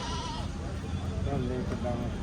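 Goats bleat intermittently amid a noisy crowd of people talking nearby at a goat market in Nabha, Punjab.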